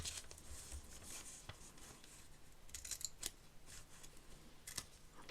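Small scissors snip at washi tape in short, dry clicks, a few scattered cuts with brief pauses between them, close and fairly quiet.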